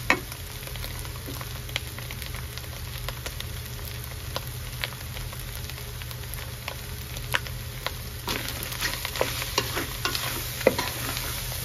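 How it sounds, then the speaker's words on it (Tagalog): Bopis sautéing in a pan, with a steady close sizzle punctuated by scraping and stirring clinks from a utensil throughout, and no speech. "gigisa lang natin ng konti"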